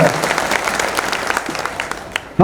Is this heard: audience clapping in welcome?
yes